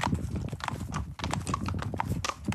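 Steady clip-clopping hooves of a horse carrying a rider on an outdoor historical ride in Bulgaria, close and rhythmic, with a faint voice at moments.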